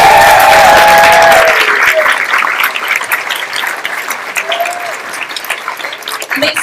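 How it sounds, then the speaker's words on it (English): Steady applause from a bar crowd fills the space, loud at first and gradually thinning out, with a few scattered cheers over it. "Let's give them a round of applause"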